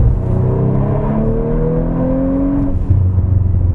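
Audi RS4 Avant B9 with a 450 PS engine accelerating hard on an open stretch of road, its engine note climbing steadily in pitch as it pulls through the revs, loud and continuous from inside the car, followed by a brief shift and a lower drone.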